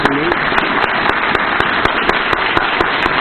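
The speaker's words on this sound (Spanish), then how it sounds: "quiero darles un gran aplauso a todas las mujeres por el increíble trabajo que hicieron para Dios" Congregation applause for the women at a Spanish-language church service, a dense sustained clatter of many hands clapping throughout, with sharper individual claps popping out of the steady wash.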